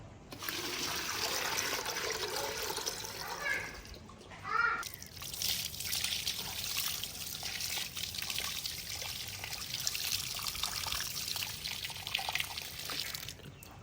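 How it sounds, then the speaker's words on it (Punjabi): Water is poured over plants at a Pakistani village home, making a steady, fairly loud splashing and trickling that continues without a break for about fourteen seconds. There are no clear voices. "ਹੁਣ ਨਾ ਪਹਿਲੇ ਨਾ ਪੌਦਿਆਂ ਨੂੰ ਪਾਣੀ ਦਵਾਂਗੀ"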